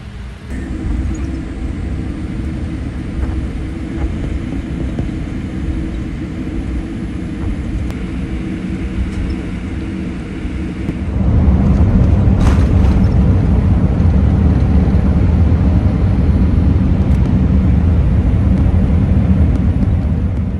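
Air Canada Boeing 787 on its takeoff run, steady deep engine roar heard from inside the cabin that abruptly grows louder and fuller about halfway through as thrust builds, continuing as a loud sustained rumble.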